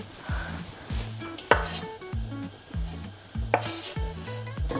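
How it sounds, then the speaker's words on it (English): Pieces of guanciale hit a frying pan with a rhythmic series of sharp clinks and taps, steady knocks of utensil against metal repeating about twice a second, close and fairly quiet, with no talking. "So we're gonna put the guanciale in this pan."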